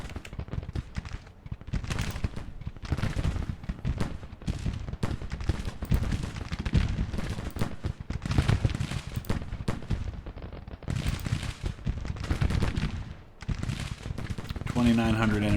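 Civil War battle gunfire in the Grand Tactician video game, dense irregular volleys of musket fire crackling continuously at moderate loudness, with a few short lulls.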